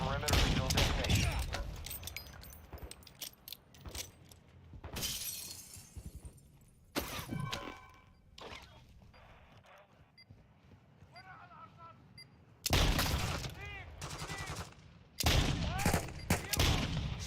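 Gunfire in a military shooter video game comes in loud bursts and volleys, with sharp cracks and shattering impacts, broken by quieter stretches where voices talk over the action.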